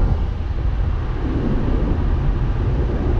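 A Mazda MX5 driving on British roads produces a loud, continuous low engine and road rumble mixed with wind buffeting, steady and close with no talking.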